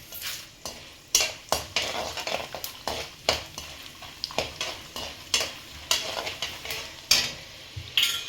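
Peanuts frying in a pan for gojju avalakki, a tamarind flattened-rice dish, with a steady sizzle and repeated sharp scrapes and clinks of a spoon stirring against the metal pan, close and fairly loud throughout.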